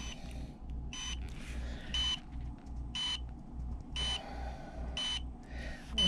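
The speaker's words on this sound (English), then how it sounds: "Well, it did come on and it's beeping." Short electronic beeps from an RV tire pressure monitoring system repeat about once a second, sharp and high-pitched, over a steady low rumble with no talking.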